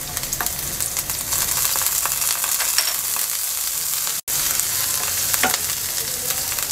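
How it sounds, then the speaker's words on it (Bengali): Onion and onion paste frying in a pan, a steady close sizzle with scattered stirring scrapes and taps, broken by a momentary dropout. "পেঁয়াজটাকে হালকা ভেজে নেব।"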